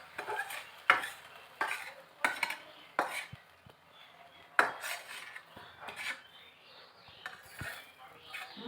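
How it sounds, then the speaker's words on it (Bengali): Fried onion tipped from a pan into a handi pot and stirred with a metal spoon, making a run of sharp clinks and scrapes against the pot, close by, with quiet rustling between the knocks. "এই যে আমরা ঢেলে দিচ্ছি পেঁয়াজটা এবার।"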